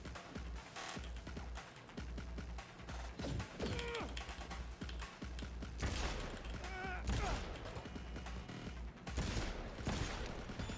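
Rapid bursts of gunfire in the video game Cyberpunk 2077 crackle through a busy, dense mix of combat effects, sustained across the whole stretch with brief lulls, with someone talking faintly underneath.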